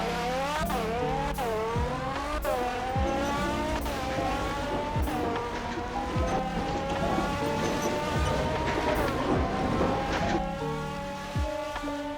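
McLaren race car in a Roblox game accelerating down a test road, its engine note repeatedly rising in pitch then dropping sharply with each gear shift, loud and close throughout, with no talking.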